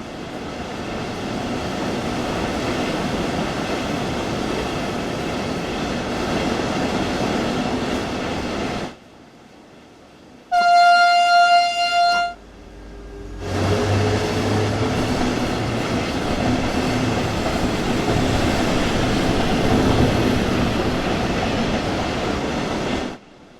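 A train in Train Sim World 2 on the Dresden local line rolls along the rails with a steady rumble. A brief quiet break comes partway through, then a sharp tonal horn-like blast, then the rolling resumes and continues steadily.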